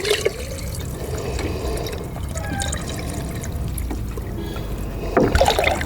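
Water poured steadily into a clay pot being filled to the neck from a 5-litre can, a continuous close splashing trickle that swells louder near the end.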